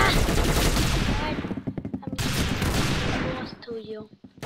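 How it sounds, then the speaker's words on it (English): Rapid gunfire in a Roblox shooting game, loud continuous bursts of shots that break into a few separate cracks, then resume before fading near the end. "Okay, so guns. I'm gonna just shoot."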